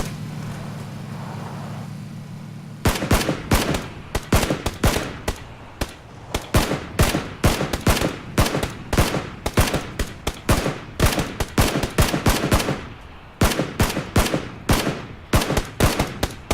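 Rapid bursts of gunfire crack out in PUBG, loud sharp shots in quick volleys and brief pauses after a low engine hum at the start, with no talk.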